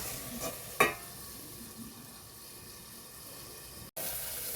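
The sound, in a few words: potatoes frying in a pan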